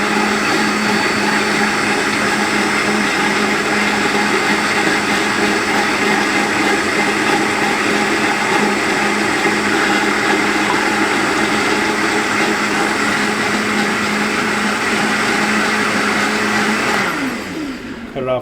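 A blender runs loud and steady, churning a dressing as oil is added to emulsify it, with a constant whirring drone that winds down and cuts off near the end.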